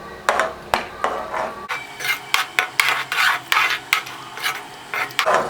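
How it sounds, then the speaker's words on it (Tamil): A spoon scrapes and rasps through thickening badam halwa in a pan as ghee is poured in, a close, rhythmic series of stirring strokes with no talking. "இப்போ இந்த ஸ்டேஜில் நெய் ஊற்றிக்கினே இருக்கணுங்க. இப்படி கலரிட்டே இருந்தால் அந்த சூட்டுக்கு இது வந்து மிக்ஸ் ஆகுங்க."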